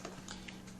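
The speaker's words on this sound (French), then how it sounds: "je tape tout simplement la commande ping" A handful of soft, quick keystrokes on a laptop keyboard as a ping command is typed, faint and close, with a steady low hum underneath.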